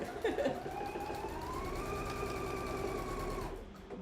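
A sewing machine hums through a continuous, even run of stitching along a fly front zipper, close and steady for several seconds before it stops.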